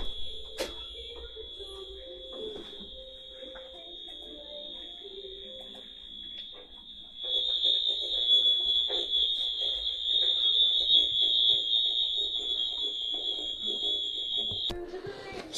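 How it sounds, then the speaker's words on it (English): A school fire alarm sounds in a middle school building, a piercing steady electronic tone that grows louder partway through and holds continuously, with faint background bustle beneath it. "the fire alarm just went off, so we had to evacuate the building"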